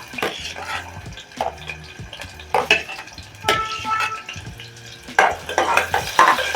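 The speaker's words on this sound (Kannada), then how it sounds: "ತುಪ್ಪ ಮತ್ತು ಎಣ್ಣೆ ಎರಡು ಚೆನ್ನಾಗಿ ಸ್ವಲ್ಪ ಕಾದ್ಮೇಲೆ ಅದಕ್ಕೆ ಹೆಚ್ಚಿಟ್ಟಂಥ ಈರುಳ್ಳಿಯನ್ನು ಹಾಕೋಣ" Chopped onions frying in hot ghee and oil, a close crackling sizzle punctuated by repeated rhythmic stirring strokes and spatula clinks against the pan, no talk.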